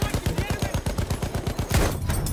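Rapid gunfire in Battlefield 1 multiplayer, a fast rattling string of around a dozen close, loud shots, ending in a heavier blast and a quieter tail.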